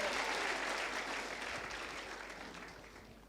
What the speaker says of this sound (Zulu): Shaya ihlombe Give a round of applause.